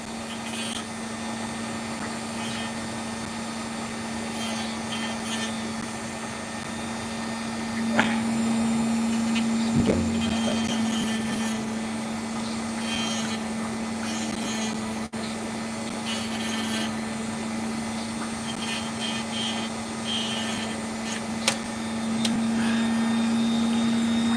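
A steady high-pitched whine of a small Dremel rotary tool runs throughout, with faint grinding against opal stone and occasional brief clicks.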